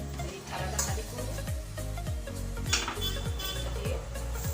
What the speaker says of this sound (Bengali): এই থালাটা খালি করবো